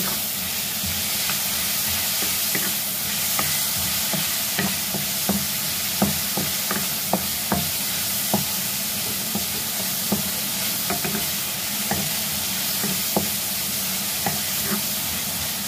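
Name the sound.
sautéing tomatoes in a pan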